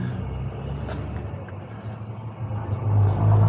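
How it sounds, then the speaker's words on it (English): A truck rumbles steadily through morning traffic, a low engine drone that swells toward the end, with faint road and vehicle noise around it. "Lots of traffic this morning."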